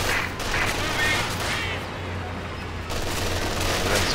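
Dense battlefield gunfire in Company of Heroes 2, with rifle and machine-gun bursts layered into a continuous loud barrage that barely lets up.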